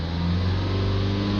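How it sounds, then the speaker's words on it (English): A diesel car engine held at about 3000 RPM with a DPF particle filter fault, giving a steady, loud, even drone that stays close throughout the short stretch. "Now if we hold the RPMs up to 3000 RPM"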